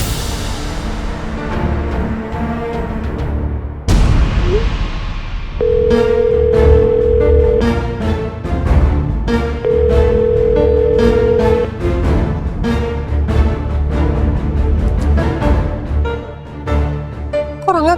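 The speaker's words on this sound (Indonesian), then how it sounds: "Kok Rangga gak angkat telepon aku sih" A telephone call goes unanswered, with two long, steady ringback tones heard one after the other over dramatic background music.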